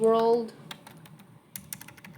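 A redeem code is typed on a computer keyboard in a Roblox-style game event, a brief burst of close, crisp keystrokes following a short spoken word.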